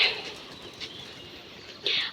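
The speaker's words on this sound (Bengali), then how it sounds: "এই যে পায়রা দিকে রুটি দিতে চলে এসেছি এই যে সব আসছে উড়ে উড়ে" Pigeons fly in to a spot where bread is being put out for them outdoors. Two short bursts of wing flapping sound at the start and end, with a faint coo in between, close and fairly quiet.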